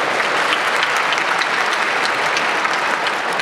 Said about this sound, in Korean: 뜨거운 박수 한번 더 부탁드리겠습니다